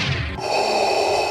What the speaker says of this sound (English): the Dark Knight's breathing does sound like Darth Vader's